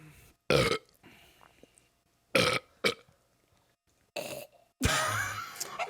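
A man lets out a series of loud, deep burps, about four separate belches spaced irregularly with quiet gaps between them, close to the microphone.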